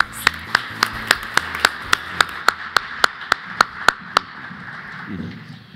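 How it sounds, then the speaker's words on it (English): Applause for award winners at a secretary's awards ceremony comes as crisp, evenly spaced claps in a steady quick rhythm, close and distinct, stopping abruptly before a brief low rustle. "And let's give them a round of applause."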